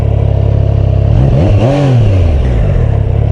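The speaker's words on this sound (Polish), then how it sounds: "całą manetkę odkręcam, a posłuchajcie silnika" A Triumph Tiger 660 Sport motorcycle engine idles with a throbbing rumble, then revs up at full throttle and back down once before settling to idle, loud and close.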